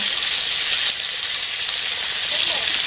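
Potato and pointed gourd frying in a pan, a loud continuous sizzle and hiss with light spatter, steady throughout.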